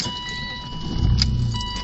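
A cold BMW car is started: keys jangle in the ignition, then the engine cranks and catches with a low rumble swelling briefly, close and loud.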